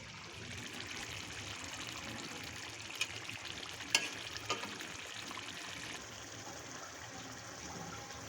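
Mustard hilsa curry bubbles and sizzles steadily in a pan, a soft continuous hiss with a few brief pops and clicks along the way, no voices.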